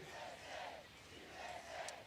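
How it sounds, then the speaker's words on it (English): A crowd at a political rally in Alabama chants "USA" in rhythmic, repeated swells, faint and distant throughout. "We hear them chanting USA, and undoubtedly there's going to be more chanting tonight."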